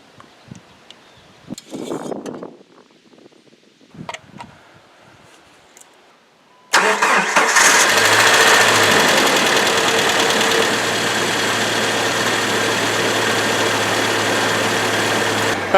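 Car engine low on oil, heard after some faint handling noises as it cranks and fires, then settles into a loud, steady idle close by with a persistent mechanical hum.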